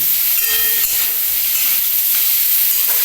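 Ginger and bitter gourd fry together in a pan, giving a loud, steady sizzling hiss that runs without a break, with no voices over it.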